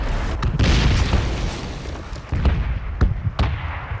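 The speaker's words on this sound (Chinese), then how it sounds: "轰炸区啊！轰炸 来了！" Artillery bombardment in the red zone of the PUBG video game: heavy booming explosions over a continuous low rumble, with several sharp blasts landing in quick succession, loud and fairly close.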